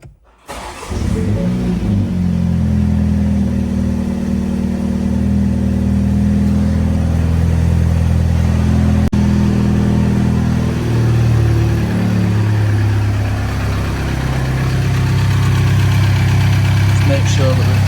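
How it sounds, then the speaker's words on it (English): A Mini Cooper S F56 engine cranks and catches, then settles into a steady, close idle with a low, even hum that holds for the rest of the time, with slight shifts in tone and no talk over it. "Replace the filler cap and start the engine."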